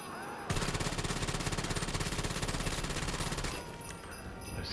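Rapid automatic gunfire from a video game rattles loud and steady for about three seconds after a short pause, then cuts to quieter background game sound.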